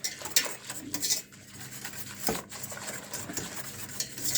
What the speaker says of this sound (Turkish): Çırpıcıyı da bunu çırpıyoruz.